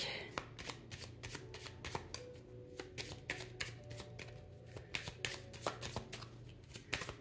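A deck of medicine oracle cards is shuffled repeatedly, close up, with crisp riffling and flicking bursts in an uneven rhythm through the whole stretch.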